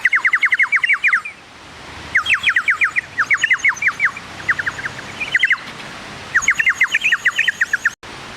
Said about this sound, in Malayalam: കിളി ഇങ്ങനെ വന്ന് ഇങ്ങനെ ഒച്ച ഉണ്ടാക്കുന്നുണ്ട്